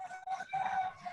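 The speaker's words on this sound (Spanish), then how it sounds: "Ya mate ese gallo." A rooster gives a continuous, fairly loud call at close range in a farmyard. A sustained tone carries through the whole second, broken by a brief dip early on, and no one speaks.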